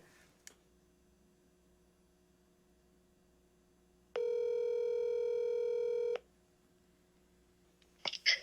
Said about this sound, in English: I got to actually dial the phone properly